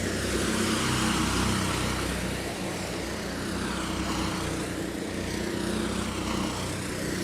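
A racing kart engine drones loudly and steadily at a karting world championship race, a continuous buzzing roar with other karts in the mix, no voices.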